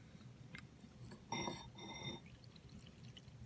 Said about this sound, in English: Let's add some water. Yep. Just water. Here, you may not hear it. I'm going to pour a decent amount in.